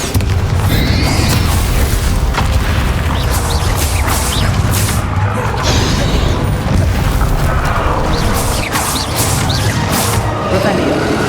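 Bombarda blasting spells in Hogwarts Legacy erupt again and again in a loud, constant battle din, with heavy booms, smashing crashes and crackling debris layered over a steady roar and what sounds like voices.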